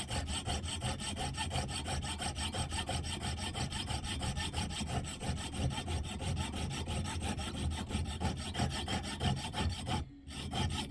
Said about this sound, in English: It's a little bit cumbersome, I have to start like this, and start filing, start cutting.